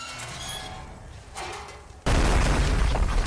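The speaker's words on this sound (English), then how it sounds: "A deafening rupture tore through the world as the Aeonfire burst free everywhere at once." An explosion sound effect bursts in suddenly after a quieter stretch of low rumbling ambience, a loud, broad roaring blast that stays dense and sustained to the end without any talk.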